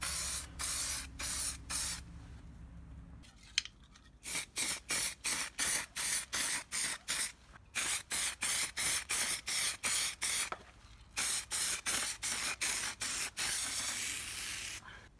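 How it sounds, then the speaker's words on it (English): Spray primer hissing onto engine bay parts from an aerosol can in many short, even bursts, close and rhythmic, with brief pauses between passes after one longer opening spray. "main tip when putting on primer is to do loads of light coats and overlap them from different directions."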